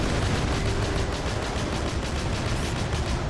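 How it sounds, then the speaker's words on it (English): Battleship anti-air cannon in Battalion Wars 2 firing automatically in a dense, continuous rapid burst, loud and close with rattling repeated shots throughout, no voices. "The battleship does have an anti-air cannon. You can see it firing automatically"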